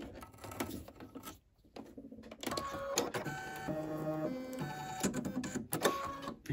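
A home embroidery machine stitches a design onto a bathroom towel, giving a rapid mechanical chatter with steady rhythmic pulses and whirring tones, broken by a brief pause early on.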